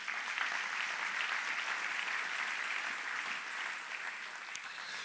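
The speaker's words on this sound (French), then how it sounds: "Nous acclamons la parole de Dieu." Steady, dense applause from a church congregation, a broad even wash of many hands clapping throughout with no clear pauses.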